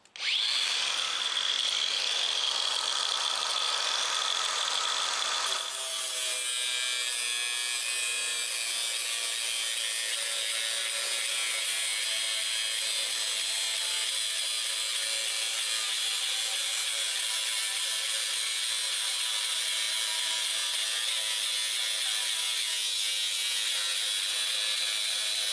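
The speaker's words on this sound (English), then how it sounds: "You'll need to use an angle grinder with a cutting disc and wear safety specs." An angle grinder fitted with a cutting disc slicing through stainless steel mesh, a loud, steady high-pitched whine and rasp that runs the whole time without a break, with the pitch shifting slightly after the first few seconds.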